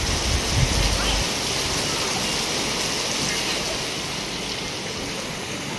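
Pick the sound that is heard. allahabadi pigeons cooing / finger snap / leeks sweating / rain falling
rain falling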